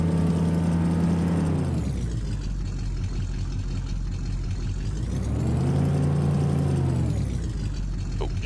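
A truck engine in Farming Simulator 15 revs while stuck, swelling to high strained revs, dropping back to a low drone, then climbing again in a second long surge, steady and close with no talk.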